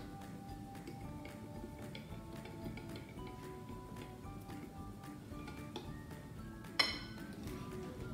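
A spoon stirs gelatin and sugar into half a cup of hot water, giving faint, steady little clinks and ticks against the container, with one sharper clink near the end.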